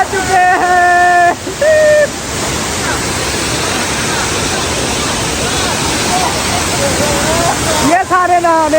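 A real waterfall with cool water and people gathered to bathe, a loud continuous broadband roar of falling water close by, with voices speaking over it at the start and end.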